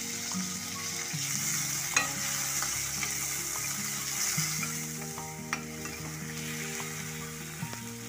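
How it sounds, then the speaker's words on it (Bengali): Onion and tomato fry lightly in a pan, a steady soft sizzle punctuated by stirring clicks and scrapes of a utensil, with a faint tonal hum underneath. "এবার পেঁয়াজ আর টমেটোটাকে হালকা করে ভেজে নেব।"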